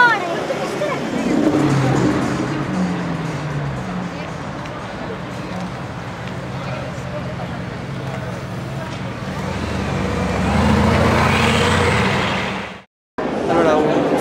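A Bugatti Veyron 16.4 idles with a deep, steady low rumble beside a street in Monte Carlo, swelling louder near the end before cutting off abruptly, with people talking over it.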